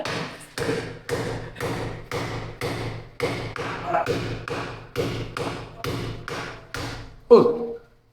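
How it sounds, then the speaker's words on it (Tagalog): Repeated heavy hammer blows, about a dozen steady thuds in an even rhythm, ending with a sharper knock. "Pukpok ka mo na, Burlok. Pukpok"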